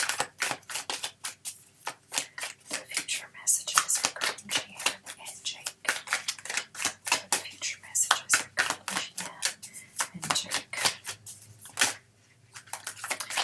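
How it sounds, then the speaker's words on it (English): Tarot cards shuffled by hand in a fast, crisp run of riffling and slapping clicks, close and continuous, with brief pauses and a voice talking now and then. "I shuffle till one card falls out"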